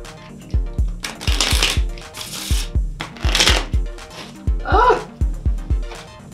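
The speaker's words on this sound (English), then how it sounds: "And do the same again, give them a shuffle." Playing cards shuffled by hand in a photography studio, a series of quick riffling bursts with crisp snapping flutters, close and clear, repeated several times.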